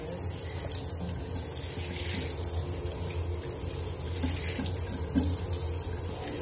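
Tap water runs steadily and close while a pet dog is bathed, a continuous splashing gush filling the whole stretch with no talk over it.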